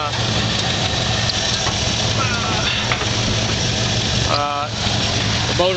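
A 1969 Ford Bronco U14 half cab sits with its engine idling in a steady, loud, rumbling drone. Someone talks over it throughout.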